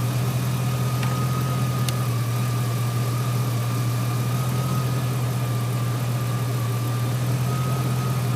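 A 2003 GMC Sierra SLE pickup engine idles steadily up close, a constant low hum with a faint whine above it and no talking.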